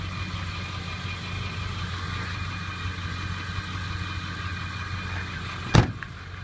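An old diesel truck with a new transmission and slight blow-by idles at a low, steady, even hum, fairly quiet and unbroken, with a single sharp thud like a door near the end.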